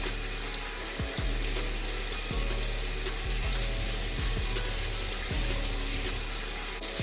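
Bacon sizzles in a pan with a steady bright hiss, punctuated by a few low thumps and clanks of kitchen handling, no voices.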